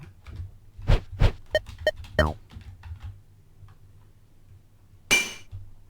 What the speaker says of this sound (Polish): Fajny odgłos. Taki szklany. Szklany odgłos.